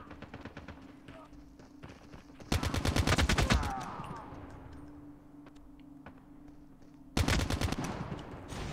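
Rapid automatic rifle fire in Call of Duty Mobile on the Rust map, heard as two tight bursts of quick shots several seconds apart, with a low steady game hum and faint clicks between them.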